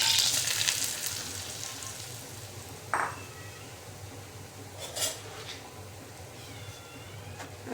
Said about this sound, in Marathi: रव्याला कलर न बदलू देता आपल्याला लो फ्लेमवरती भाजून घ्यायचे